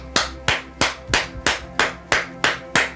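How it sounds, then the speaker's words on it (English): Hands clap ten times in a steady, even rhythm, each clap sharp, close and loud, with nothing else heard. "Clapping your hands 10 times."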